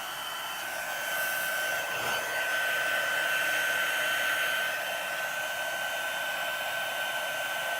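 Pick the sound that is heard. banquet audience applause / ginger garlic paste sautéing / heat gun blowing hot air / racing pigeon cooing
heat gun blowing hot air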